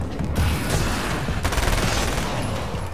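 Rapid gunfire rings out in the video game Alan Wake's American Nightmare, a dense burst of shots close and loud over a steady rumble for about three seconds, with a sharp crack near the middle and no speech.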